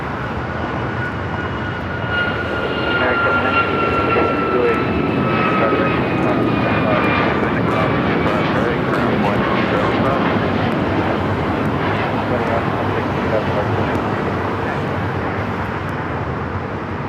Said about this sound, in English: Next takeoff here on the south side of flight heading to Orlando, Florida